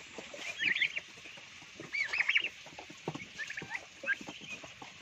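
Turkey chicks, a Bourbon Red and Black Spanish cross, give bursts of high, thin peeping calls in about four clusters over steady low barnyard background noise, fairly close and moderately loud.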